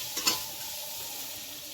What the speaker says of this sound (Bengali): এবার সব কটা আমি কুচনো বাদামগুলো দিয়ে দিলাম, দিয়ে এবার একটু ভেজে নেব